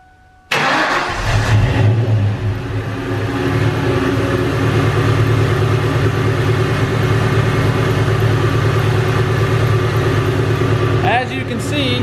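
A Saleen car engine catches on the first try and settles into a steady, loud, rumbling idle that holds almost unchanged to the end, with a slight hesitation near the close.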